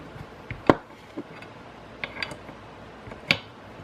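The bolt of a Marlin model 39A rifle is worked at a range, giving a few sparse metallic clicks and clacks, one sharp and close, the rest fainter, over a steady background hiss.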